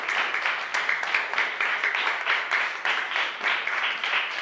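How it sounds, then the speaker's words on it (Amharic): Warm applause for a top-ranked student at a class ceremony, steady continuous clapping from a group filling the whole stretch at an even, moderate level. "በአንደኛ ሴሚስተር ከዚህ ክፍል ተማሪዎች በሙሉ አንደኛ ለወጣው ለበረከት አበራ ሞቅ ያለ ጭብጨባ"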